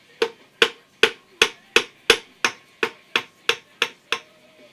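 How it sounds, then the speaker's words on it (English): A hammer strikes a punch to drive a pin out of a Russian SKS rifle: about eleven sharp, evenly spaced metallic knocks, close and loud, each fading quickly. "knock out that pin"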